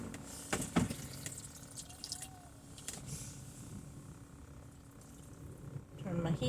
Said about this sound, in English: Now then, I'm going to get a little bit of water.